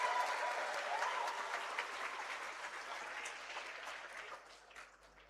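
Steady applause from an audience at a university new-student orientation ceremony, a broad even patter of many hands that holds for several seconds and then thins and fades out near the end.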